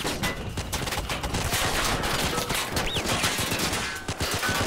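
Dense, continuous battle noise from the Army Men of War toy soldiers game: sustained rapid gunfire and explosive bursts during a heavy tank engagement, loud and unbroken throughout with a brief whistling tone midway.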